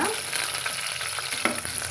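Food sizzles and crackles in a hot pan, a steady frying hiss with a few sharper pops as the vegetables are stirred while making sambar rice.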